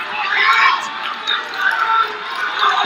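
A wrestling crowd cheers and shouts in a steady, dense roar while a wrestler works the audience, loud and sustained for the whole moment with no clear single voices standing out.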